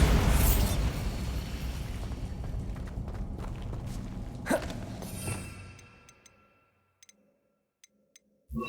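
A Bombarda blasting spell in Hogwarts Legacy bursts with a sharp crack over a dense rumbling blast that fades to quiet, followed by a few faint ticks.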